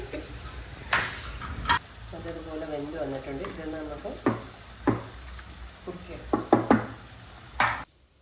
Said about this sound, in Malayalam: ഞാനൊരു പാൻ ചൂടാക്കി അതിലേക്ക് പെരിഞ്ചീരകം ഇട്ടു പിന്നെ കുറച്ച് ചുമന്നുള്ളി മുഴുവൻ ഇട്ടു